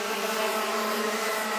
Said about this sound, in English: Engine there just didn't sound quite right as he went down the straightaway